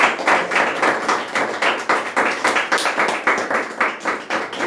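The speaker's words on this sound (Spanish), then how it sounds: "¿Cuántos le pueden dar un fuerte aplauso?" A church congregation at a Sunday men's meeting claps loudly and rhythmically, strong evenly spaced beats sustained throughout with little talk over them.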